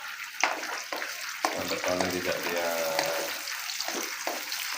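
Shallots and large red chilies sauté in a hot pan, a steady close sizzle with stirring scrapes and clinks, while a person speaks over the frying.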